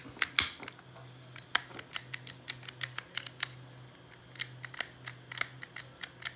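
Buttons on a Fiat Panda 141 switch panel are clicked repeatedly, sharp close plastic clicks in irregular quick runs with short pauses, over a faint steady hum.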